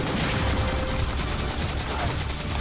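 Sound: sniper rifle gunfire in Halo video game Spartan Ops

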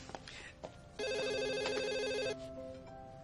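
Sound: telephone ringing

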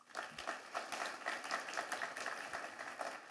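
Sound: shareholders applauding to approve a motion

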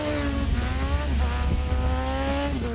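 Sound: Suzuki GSX-R motorcycle racing

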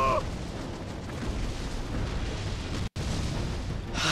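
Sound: cannon explosions in video game Skylanders Giants

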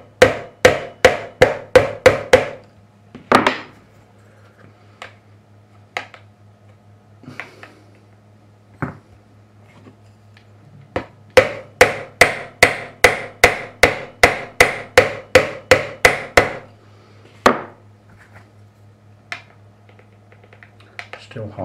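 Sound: hammer tapping guitar frets during fret leveling

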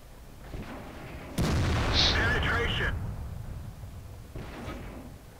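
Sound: tank cannon fire in a video game (World of Tanks)

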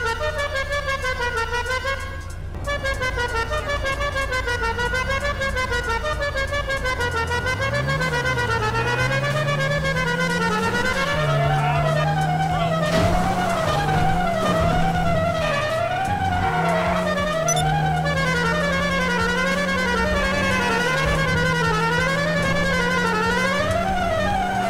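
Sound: GTA 5 classic car horn playing Flight of the Bumblebee, video game

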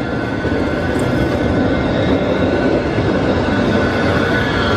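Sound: tourist train arriving in Sóller, Mallorca

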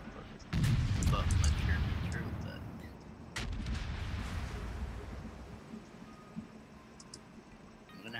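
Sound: warship main battery gunfire in World of Warships video game

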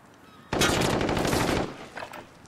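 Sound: machine gun firing in a video game

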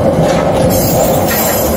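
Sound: Urquiza Cargas mixed freight train with container wagons passing

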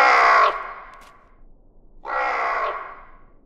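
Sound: raven cawing in children's cartoon

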